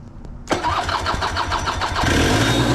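A 1991 Honda Cub EZ90 two-stroke engine catching after a couple of faint clicks and settling into a loud, close, busy idle that rises slightly higher toward the end.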